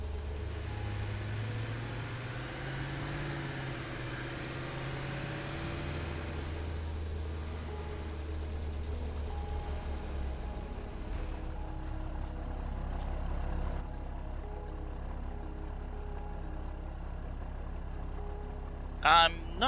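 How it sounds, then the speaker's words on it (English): A truck engine in the factory-building video game Satisfactory runs steadily through the whole stretch, a low continuous rumble with a shifting drone, joined by a brief sharper burst near the end. "I'm not sure which truck this is,"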